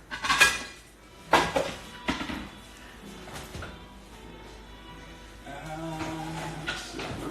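Spaghetti being plated at home, with sharp clinks and clatters of dishes and cutlery in a few bursts early on, then quieter scraping and handling sounds, close by.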